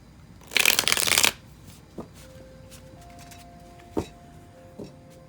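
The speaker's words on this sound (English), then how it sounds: "I'm going to throw out some tarot." Tarot cards shuffled in a quick, loud riffling burst lasting under a second, followed by a few faint taps and soft handling sounds in an otherwise quiet room.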